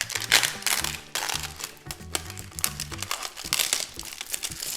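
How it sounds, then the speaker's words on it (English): Hard plastic shrink wrap is cut and pulled off a Baby Brezza bottle sterilizer box, producing loud, continuous crinkling and crackling with irregular bursts throughout and no speech. "it's like a hard plastic shrink wrap too. It's not like a soft plastic."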